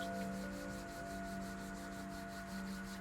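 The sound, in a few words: hands rubbing together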